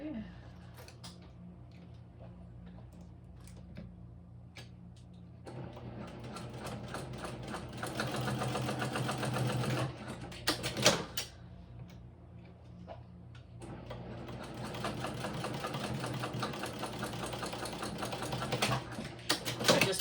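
A sewing machine stitches fabric pieces of a Siena backpack in two sustained runs of rapid mechanical clatter, separated by a quieter pause, close and fairly loud.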